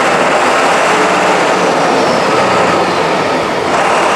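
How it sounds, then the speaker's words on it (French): A Matrot Maestria 15 sprayer machine accelerating with its pump running, a loud continuous broadband roar and rush that holds steady throughout with no pauses. "On peut accélérer et actionner la pompe."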